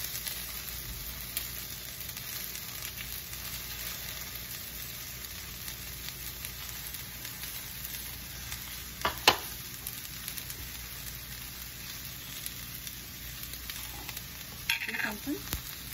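Sooji noodles stir-fried in a pan for a Hakka-style dish, a low, even sizzle that runs steadily with a couple of brief spatula scrapes, no voices.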